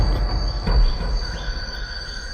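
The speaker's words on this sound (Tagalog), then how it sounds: "May mga narinig kaming mga ibon na huni, pero pa isa-isa na lang, saka kuliglig." Crickets chirp steadily at night in a forest, a thin continuous high trill running through the whole stretch over low rumbling background noise.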